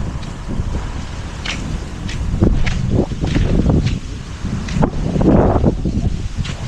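Strong wind buffets the microphone in rumbling gusts that swell and ease, with rustling and a few soft thumps underneath.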